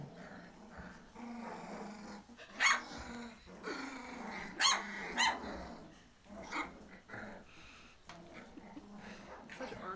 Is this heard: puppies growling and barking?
yes